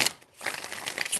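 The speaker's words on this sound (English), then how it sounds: "Five shuffles." A short crinkly riffle of tarot cards being shuffled close by, a papery burst with a brief pause, then more crisp flicking.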